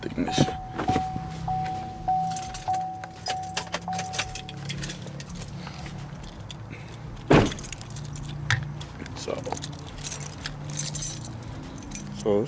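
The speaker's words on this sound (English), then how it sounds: "Starters, get my keys out the ignition." Car keys jingle and rattle close by as they are pulled from the ignition, in a series of bright metallic clinks, with a chime sounding in the car, occasional thumps and some talk.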